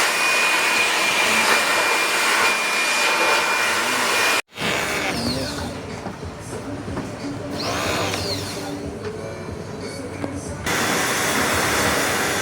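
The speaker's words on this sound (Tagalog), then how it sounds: "nag-blower na po" An air blower cleaning an air conditioner's outdoor unit gives a loud, steady roar that fills the whole stretch, cutting out for a moment partway through before resuming just as strong.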